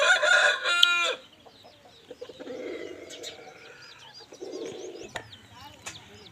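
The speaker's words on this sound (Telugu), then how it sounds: "ఫ్రెండ్స్ ఇది ఐదో పుంజు" A fifth rooster of roughly three kilograms, one of twelve in a bulk sale, lets out a loud, close crow in the first second, followed by quieter background clucks and faint chatter.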